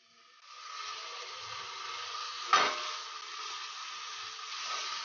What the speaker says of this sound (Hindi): इसे भी हम मसालों के साथ अच्छे से भून लेंगे।